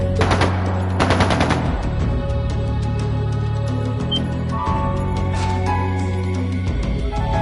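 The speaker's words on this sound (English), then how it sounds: "That sounded like gunfire." Bursts of rapid automatic gunfire crackle up close, then give way to a low droning hum and scattered game sound effects.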